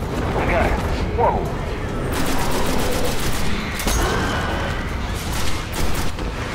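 Dense gunfire rattles continuously in the PS4 game Destiny during a hard-mode Shrine of Oryx battle, loud and sustained with rapid bursts and explosive booms, while someone talks over it.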